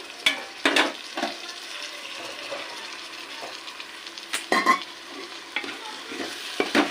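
Boiled mutton pieces stirred into fried tomatoes in a pan: a low continuous sizzle broken by sharp, close scrapes and clanks of a spoon against the pan at irregular intervals, no talking.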